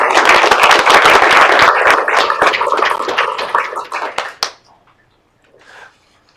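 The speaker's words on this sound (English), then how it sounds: "So a round of applause for those guys." Applause at a Mozilla project meeting, a small group clapping in a loud cluster of sharp claps that thins out and stops after about four and a half seconds, leaving near silence and a faint murmur.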